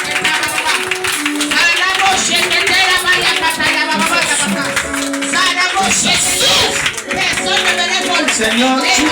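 A congregation claps steadily during prayer at a deliverance service, dense continuous applause filling the space with loud overlapping voices praying and calling out throughout.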